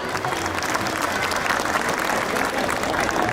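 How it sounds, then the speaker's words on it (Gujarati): Audience in a family gathering hall applauding together, a steady dense wash of clapping that holds evenly from start to end with a faint crowd murmur beneath. "એને એકવાર આપણે બધા તાળીઓથી એને વધાવીએ"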